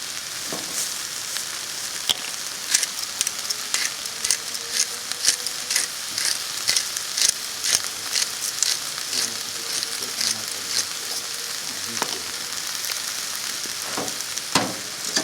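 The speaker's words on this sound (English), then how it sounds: "to sweat those courgettes off until they soften up a bit" Courgettes seasoned with salt and pepper sizzle in a frying pan, a steady bright crackle broken by frequent sharp clicks and pops from stirring, close and without talk.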